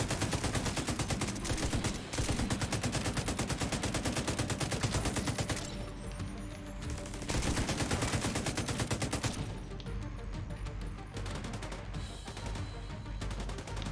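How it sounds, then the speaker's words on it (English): Shotgun fire in The Division 2, loud repeated blasts coming in rapid, dense bursts nearly throughout, with a few brief pauses between volleys. "Can't believe I'm hitting that guy with a shotgun from over here."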